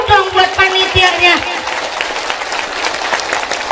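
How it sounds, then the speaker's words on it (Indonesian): Audience applauding the event committee at a lively village religious lecture in Indonesia, a dense burst of clapping with crowd noise that runs on and stays steady, mixed with voices in the opening second. "Tepuk tangan dulu dong buat panitianya."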